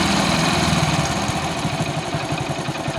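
Hero HF Deluxe motorcycle engine idling at low RPM, a steady, close, continuous rumble with even low pulsing throughout and no talk.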